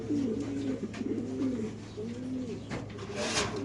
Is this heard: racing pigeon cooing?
yes